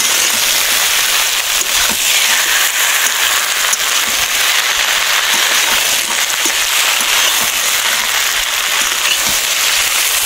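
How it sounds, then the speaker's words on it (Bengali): Vegetables frying with a paste of ground white mustard and poppy seeds while being stirred, giving a loud, even sizzle that fills the whole stretch, dotted with small clicks and crackles from stirring. "এবার আমি দিয়ে দেবো আমার বেটে রাখা সাদা সর্ষে আর পোস্ত দেবো দিয়ে এটা আমি ভালোভাবে সবজির সাথে মিশিয়ে নেব"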